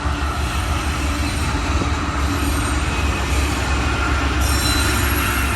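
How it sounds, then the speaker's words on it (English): A long freight train with several locomotives, including mid-train distributed power units, rumbles past up close: steady loud wheel noise and rail clatter with faint squealing, continuous throughout with no talk. "So they hooked a Z train to a port train."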